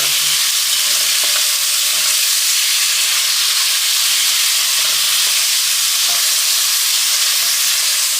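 Pepper and garlic sauté in a hot pan for a curry crab and saltfish dinner, a loud, steady sizzle and hiss running throughout with faint stirring clicks beneath.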